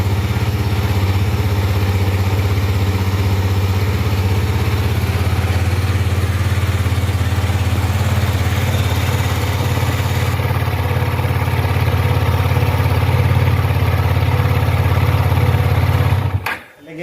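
KTM Duke 250 motorcycle engine running at a steady, loud idle with a deep continuous thrum, close by, cutting out abruptly near the end.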